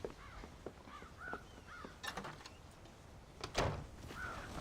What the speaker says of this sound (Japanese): カラスをサイロから追い払え。